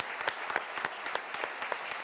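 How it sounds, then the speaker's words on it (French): An audience applauds at a live event for a sailor, with quick scattered claps at moderate distance and no talking. "On peut l'applaudir, mesdames, messieurs"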